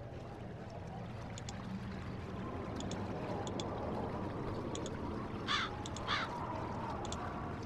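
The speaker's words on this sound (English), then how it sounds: "The raven thinks it's the keeper of it, the well." A raven caws in the video game Haunted Legends, a few short harsh calls spread over the clip with two louder caws near the end, all over a steady low ambient rumble.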